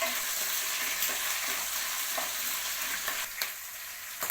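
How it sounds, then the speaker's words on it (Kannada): Mustard seeds, curry leaves and green chillies frying in a pan for masala dosa potato filling: a steady, loud hissing sizzle with a few soft stirring scrapes, close up. "ಚೆನ್ನಾಗಿ ಫ್ರೈ ಮಾಡ್ಕೊತಾ ಇದ್ದೀನಿ."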